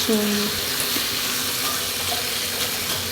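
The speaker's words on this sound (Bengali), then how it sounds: "টোটাল সবটাই কষিয়ে নিচ্ছি" Pointed gourd and prawns sautéing in a pan, giving a steady broadband sizzle with faint scraping stirs throughout.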